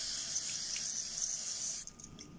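Circuit cleaner sprays onto a circuit board in a steady, close hiss that runs almost throughout, then breaks into shorter bursts near the end, with no talking.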